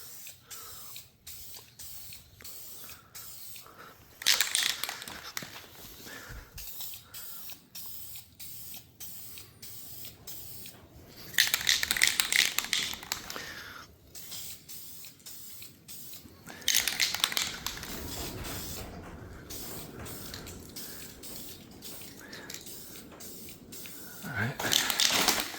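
Bursts of aerosol plastic paint spray hiss in several separate passes, close by, with quiet pauses and faint clicks between them, while restoring plastic and vinyl parts of a 1971 Chevelle.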